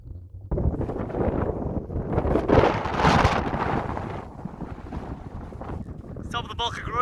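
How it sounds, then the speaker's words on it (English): Gusty wind buffets the microphone while cycling up the Bwlch-y-Groes mountain pass, a loud roaring rush that swells and eases, with a brief squeak near the end. "It was truly bleak riding up there with these gusts."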